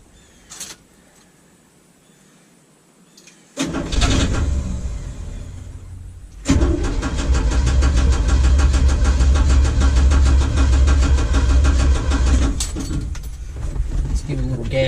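A car engine on a C60 with a freshly rebuilt carburetor cranks, catches and settles into a loud, steady running drone close by. Brief voices can be heard around the start.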